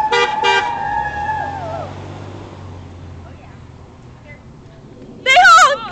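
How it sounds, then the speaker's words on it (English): Car horns honking at a roadside: a double toot and a long sustained blare at the start fading as the vehicle passes, then a quiet stretch before another loud horn burst near the end. "They honk!"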